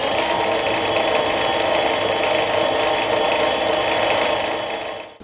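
A walking-foot sewing machine stitches a furniture cushion sample seam in one continuous, loud, even mechanical buzz that winds down at the very end.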